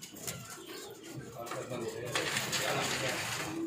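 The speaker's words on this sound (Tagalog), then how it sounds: "So ito, dito umuwi yung mga ibon niya." Racing pigeons coo softly in their loft, low murmuring calls mixed with faint chirps and a brief flutter of wings, heard close with a steady background hum.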